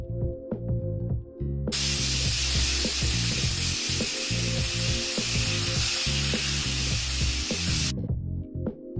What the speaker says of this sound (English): y'all about to start frying the chicken.